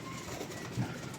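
Pigeons in a flock give a faint low coo among steady background noise, with a short burst near the end.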